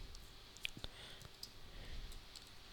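A few sharp computer mouse clicks while working in Android Studio, close and fairly quiet, two distinct clicks spaced closely with faint room noise between.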